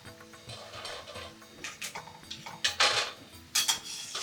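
Cooked garuvalu sweets, an Andhra-style fried sweet, rattle crisply into a steel vessel, with quick bursts of light clinks and clatters that grow louder toward the end.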